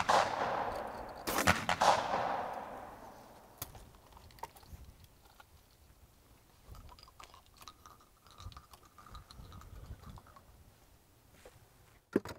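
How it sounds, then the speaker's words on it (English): Shotgun blasts from youths shooting clay targets ring out outdoors, two loud sharp reports with echoing tails near the start, followed by quieter scattered clicks and handling noise. "Nice shots. Way to break them, Kaylee."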